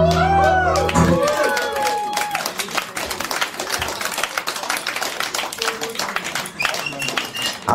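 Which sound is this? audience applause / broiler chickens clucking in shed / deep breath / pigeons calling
audience applause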